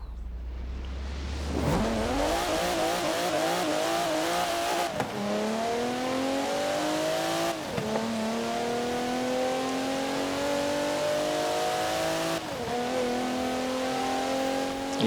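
A stock 2016 Alfa Romeo Giulia Quadrifoglio accelerating hard in Forza Horizon 4, its engine note climbing steadily through the revs, with a few quick gear-change dips and no talking over it.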